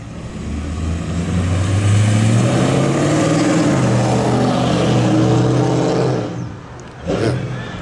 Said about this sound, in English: Noisy vehicles.